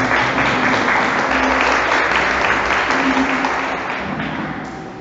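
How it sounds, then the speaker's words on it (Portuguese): Worshippers at a Catholic preaching service give a round of applause, a full, even roar of many clapping hands that stays loud throughout and eases off slightly near the close. "dê uma salva de palmas para a palavra de Deus"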